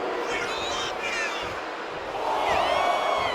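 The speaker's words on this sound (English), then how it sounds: "And now JD is playing to the crowd." A virtual arena crowd in the WWE 2K25 wrestling game roars and cheers steadily, swelling louder toward the end while commentary voices talk over it.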